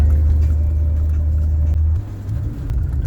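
A vintage RV on a gravel road on the way back gives a loud, steady low engine rumble from inside the cab, easing slightly partway through with no one talking.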